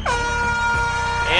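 A traditional conch shell blown at Poipu Beach to start a marathon gives a single steady, loud, horn-like blast of about a second and a half, with nothing else over it.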